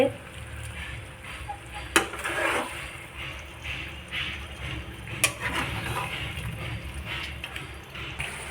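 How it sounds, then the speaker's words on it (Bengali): Chicken sautéing in a pan makes a low, continuous frying rustle. It is punctuated by a couple of sharp spoon knocks and irregular stirring scrapes, all fairly close. "এবার দেখতে পাচ্ছ ভালোভাবে কষানো হচ্ছে"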